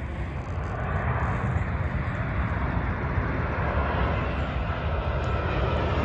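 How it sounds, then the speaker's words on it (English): An airplane flies over the Thomas A. Dixon Jr. Aircraft Observation Park, its engine roar loud and steady throughout and filling the whole scene without any break. "We got another plane coming."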